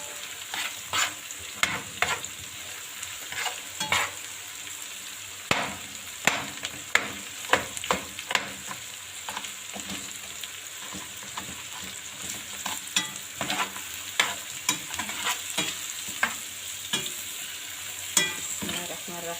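Potatoes frying in a pan with salt, cumin, black pepper and a stock cube, stirred by hand: steady close sizzle broken by repeated sharp scraping and clattering strokes, with no talk.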